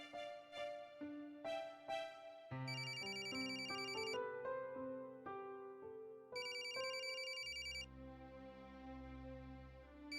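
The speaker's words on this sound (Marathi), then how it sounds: "अरे तुझा अलार्म वाजतोय, बंद कर ना." A phone alarm rings loudly and alone with a bright electronic melody of repeated tones and chiming patterns that cycles steadily without pause.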